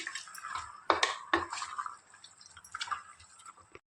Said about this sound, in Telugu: శుభ్రం చేసుకున్న నాటుకోడిని ఇందులో వేద్దాం ఇలా బాగా తిప్పుకోవాలండి